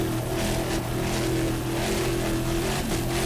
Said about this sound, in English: Nice throttling there by Matt Rice.